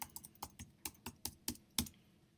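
Quick, light keystrokes on a computer keyboard, about a dozen clicks in a short uneven burst, close and fairly quiet.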